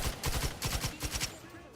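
Heavy gunfire from big guns in the video game Outer Worlds 2, a rapid burst of loud booming shots in quick succession over about a second and a half, trailing off at the end.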